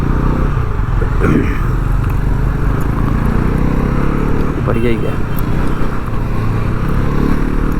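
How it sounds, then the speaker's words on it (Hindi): Bajaj Pulsar NS400Z motorcycle running rough before its first service, a steady engine drone throughout with someone talking over it. "बाइक अब वैसे भी बहुत रफ चल रही है"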